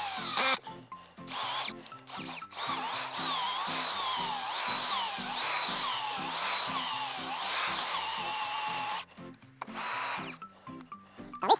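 Earth drill boring into dense, soft, sticky soil, a loud motor whine with rising and falling pitch and a rhythmic churning pulse, running continuously before cutting out near the end.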